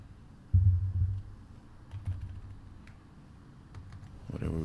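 Computer keyboard typing: sparse, faint clicks and taps over a low background hum, with a brief louder thump near the start.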